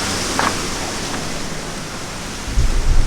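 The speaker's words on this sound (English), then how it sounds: "Continuously raining." Heavy rain falls continuously in Mahabaleshwar as a loud, dense hiss that does not let up, with a low rumble rising near the end.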